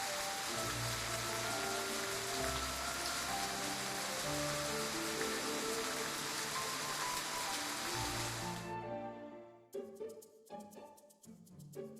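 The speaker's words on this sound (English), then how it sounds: "I wanted the rain to last a little longer." Steady heavy rain pours down in a scene from the video game Love and Deepspace, a dense continuous hiss that stops abruptly, leaving scattered drips and splashes.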